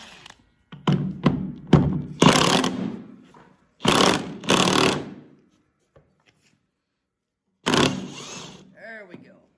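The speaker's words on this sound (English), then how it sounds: "you get your socket wrench on there ready to go" Socket wrench working the spindle pulley nut on a John Deere Z445 mower, heard as a run of loud, close metallic clunks and ratcheting bursts separated by pauses, with a short burst later and a brief voice near the end.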